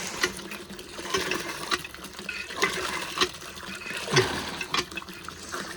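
Water runs from a tap in uneven, pulsing gushes and splashes, close and moderately loud.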